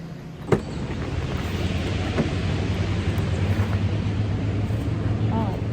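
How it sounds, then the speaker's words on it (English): Road traffic rumbles as a steady, broad wash of noise heard from a campsite at Desoto Falls campground in the Chattahoochee forest, with a sharp knock early on and faint distant tones. "do you hear that traffic?"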